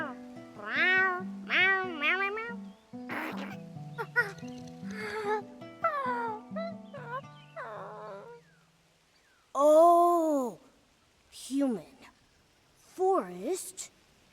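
A cat-like creature in the Infinity Nikki video game meows repeatedly in bright, rising and falling calls, several short meows in a row, then longer separate ones, over soft game music.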